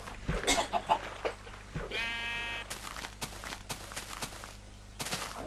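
Sheep in Minecraft give a clear, wavering bleat at mid-distance, set among scattered sharp clicks and thuds of game activity.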